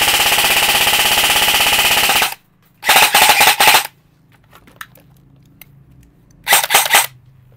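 An all-metal E&C 645 M4 PDW airsoft rifle firing on full auto: a long rapid burst, then two shorter ratcheting bursts separated by quiet pauses, loud and close.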